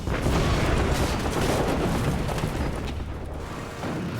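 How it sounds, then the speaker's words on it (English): A torpedo explosion tearing into the port-side stern hull of the battleship Bismarck: a sustained, loud, rumbling roar with dense low-end turbulence that persists steadily before easing slightly near the end. "The violent explosion tears a huge hole in the hull."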